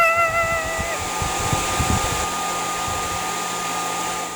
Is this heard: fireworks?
no